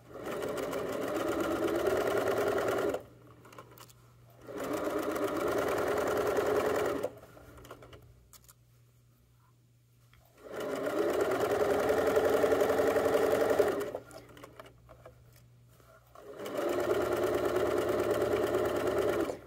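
Sewing machine stitching the top seam of a fabric Chromebook case, running in steady bursts of about three seconds separated by short quiet pauses, close and clear with no talking.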